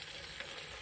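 Bacon crackles and spits in an aluminium-based, stainless-lined Trangia frying pan on a camp stove, a dense continuous hiss held close with no voices over it.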